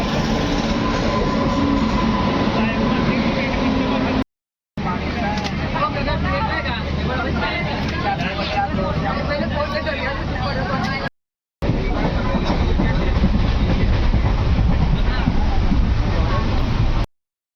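A passenger train runs on the rails toward Nandurbar, a loud steady rumble and rattle of carriages broken by two brief cuts, with people talking over it.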